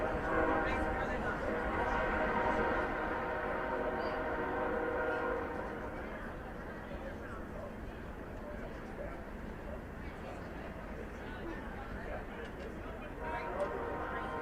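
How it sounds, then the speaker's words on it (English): A train rumbles at a distance near a baseball field in Springfield, a low steady roar that is loudest early on and then fades, while crowd and ballpark ambience continue. "as you can hear a train rumbling in the distance here in Springfield."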